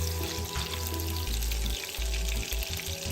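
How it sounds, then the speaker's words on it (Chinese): Pork belly sizzles steadily in hot oil over medium heat while rendering its fat for Hakka preserved-vegetable rice, a dense, continuous crackle with a low hum beneath it and no talking. "油热后倒入3层肉，中火煸香，逼出猪肉内部油分。"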